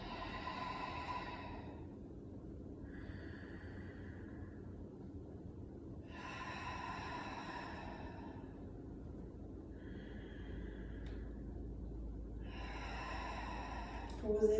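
People exhale during a Pilates exercise, soft, breathy rushes of air repeating every few seconds over a quiet background hum, with an instructor's voice heard between them.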